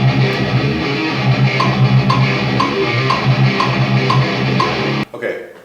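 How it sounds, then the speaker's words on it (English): Studio electric guitars playing alone, captured with a blend of three mics including a ribbon, in a dense, steady rhythmic strum with no drums, cutting off abruptly near the end. "The guitars by themselves sound like this."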